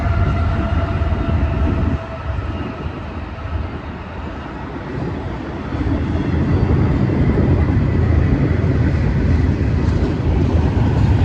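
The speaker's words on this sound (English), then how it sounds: "There goes the train." A train rumbles past nearby along Route 66, a loud continuous roar that dips briefly and then swells again, with no voices.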